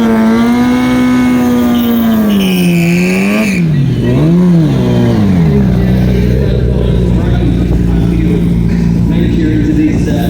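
Drag racing motorcycles, a Kawasaki ZX12 and a Yamaha YZF 1000, rev loudly at the strip, a high engine whine rising and dipping before dropping into a broad, roaring rumble that holds steady to the end.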